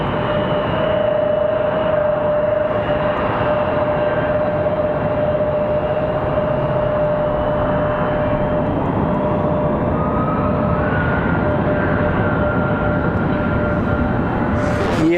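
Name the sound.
United Boeing 737-700 jet airliner taking off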